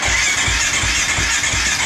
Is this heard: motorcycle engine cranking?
yes